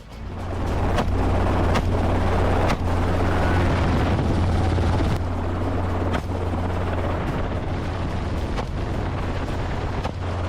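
A hunting helicopter roars loudly and steadily overhead during a feral pig hunt, its rotor thumping throughout, with a few sharp cracks breaking through the drone.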